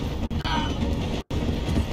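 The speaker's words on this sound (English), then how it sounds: "The train is slowing down to go through the station" Train in Red Dead Redemption 2 slowing as it passes through a station: a continuous low rumble of wheels on rails, cut by two brief dropouts.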